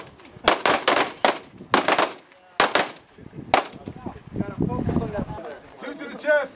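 Sharp gunshots at a shooting seminar drill, fired at a target two to the chest and two to the head, crack out as several loud, spaced reports between shouted commands, with voices talking over the later part.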